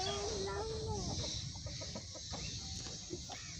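Several chickens at a farm cluck in the evening, a near rooster-like call at the start, then scattered short clucks over a steady outdoor background.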